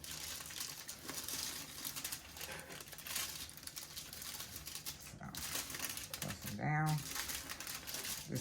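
A plastic freezer bag being folded into an envelope shape gives soft crinkling and rustling at close range, with light taps and brief handling noises scattered through the clip.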